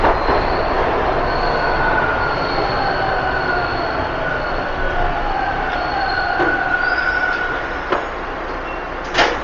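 A Toronto subway Line 2 train pulling into Warden Station, heard from inside the car as a steady rolling rumble with drawn-out squealing wheel tones and a few sharp clicks and knocks.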